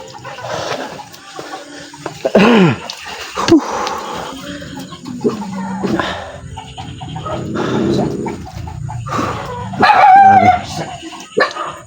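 A dog barks in scattered bursts, fairly close, with some background activity and brief voices between barks.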